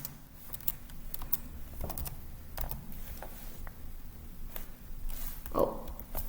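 Soft, light keystrokes on a computer keyboard, tapping in quick irregular bursts while entering text for a Python program, fairly quiet and close with faint room hum beneath.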